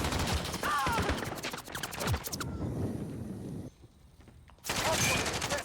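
Dense, loud gunfire in a Call of Duty multiplayer battle, rapid bursts rattling almost continuously, dropping away briefly before another burst, with a voice talking over the action.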